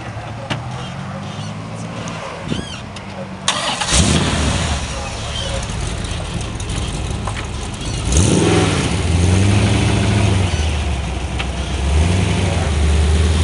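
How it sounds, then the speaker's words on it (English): A mid-engine V8 race car on racing tires idles and revs in an autocross staging area, its engine note swelling and climbing after a pause, with someone talking over it nearby. "V8 mid-engine. Rumble,"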